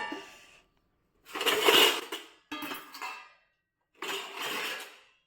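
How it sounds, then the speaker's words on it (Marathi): Kitchen utensils clatter as they are put away, three separate bursts of metallic clinking and knocking set apart by short silences, close and fairly quiet. "आता ही सगळी भांडी लावते, त्यांना आपापल्या जागेवर ठेवते."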